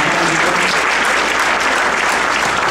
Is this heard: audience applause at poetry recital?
yes